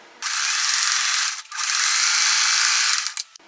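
A sewing machine stitches a zigzag seam joining raw-edge crazy quilt blocks, a fast, steady mechanical whir heard close up in two long bursts with a brief pause between, alone without talk.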